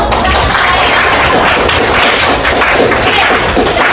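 An audience in a school classroom lesson claps together in a dense, steady wash of hand claps, loud and close, holding at an even level for about four seconds with no pause.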